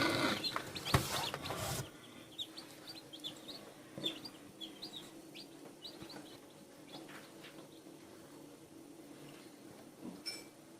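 Many newly hatched chicks peep in high, rapid chirps throughout, close by, after an opening burst of louder rustling and clucking.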